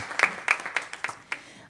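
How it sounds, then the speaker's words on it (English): Scattered, sparse clapping from a small group at a school board meeting, individual claps distinct and irregular over under two seconds, fairly quiet and close. "Let's give them all a big round of applause for their years of service."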